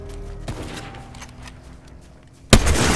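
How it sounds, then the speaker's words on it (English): Fortnite gunfire: a single sharp shot early, a quieter stretch, then a loud close burst of shots near the end, suddenly louder than everything before it. "Someone shooting at us."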